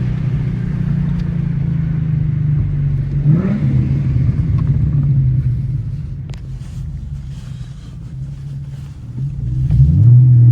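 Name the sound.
street racing cars accelerating at a car meet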